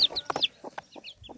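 A hen clucks softly near her newly hatched chicks, low short clucks mixed with high thin peeps from the chicks, close and quiet.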